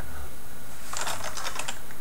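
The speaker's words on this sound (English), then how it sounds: "Let me type something for you so you can have a sense of the sound of the keyboard." Typing on a Topre Realforce 103UB keyboard with 55-gram keys: a quick run of soft, muffled keystrokes clattering close by after a brief quiet start, with no talking.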